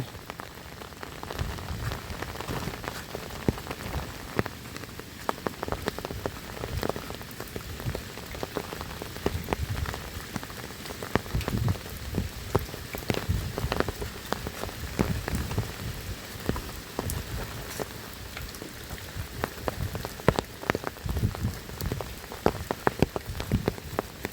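Heavy rain pours steadily onto a flooded rice field at the start of the growing season, a dense, continuous hiss with spattering drops throughout and no voices.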